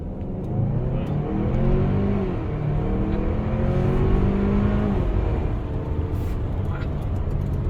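2023 Kia Sorento SUV in sport mode accelerating hard from a dead stop, engine revs climbing in rising sweeps then levelling off, close and fairly loud, with voices talking over it.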